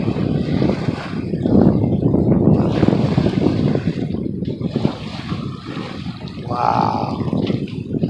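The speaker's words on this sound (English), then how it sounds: "here comes a big wave" Heavy rushing water and wind noise on the open ocean as a big wave passes a 27ft Catalina sailboat, a loud swelling wash that eases off, with gusts buffeting the microphone.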